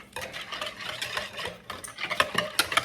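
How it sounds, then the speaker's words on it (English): A whisk scrapes rapidly and rhythmically against a bowl of banana cream pie filling, up close and steady, with no talking. "Oh, my hand is starting to hurt from this whisking."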